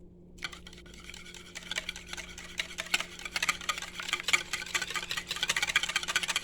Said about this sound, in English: Whisk the pumpkin